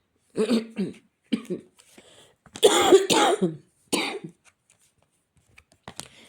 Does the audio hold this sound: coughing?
yes